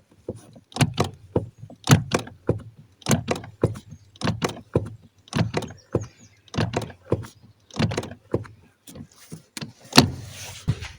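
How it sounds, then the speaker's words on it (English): An Alfa Romeo hydraulic clutch pedal is pumped over and over, giving a steady series of sharp, close clunks and clicks in an even rhythm with short gaps between strokes. "Now, work the clutch pedal a bunch of times."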